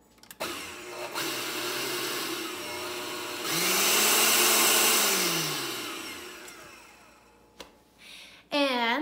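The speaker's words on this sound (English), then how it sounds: "And a blender." A kitchen blender runs steadily for several seconds, its motor pitch rising and falling as the load changes, with a short whir after it stops; no one talks.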